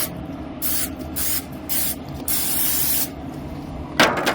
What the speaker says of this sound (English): First things first, spray the pan down.